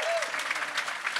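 A brief burst of audience applause at a horse-racing awards evening, steady and fairly faint, with a short whistle-like tone at the start.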